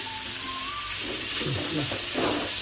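Prawns frying in masala in a pan, with a steady close sizzle and hiss that swells slightly toward the end, alongside faint stirring sounds and a thin tone early on.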